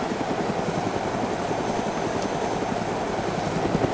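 A helicopter in the survival game DayZ hovers with a steady, loud rotor chop and engine drone filling the whole stretch, continuous and close, with no talking over it.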